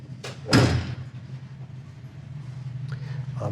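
The gas door behind the license plate of a 1970 Camaro Z28 gives a light tap and then a sharp, clear click, followed by a low, steady background hum.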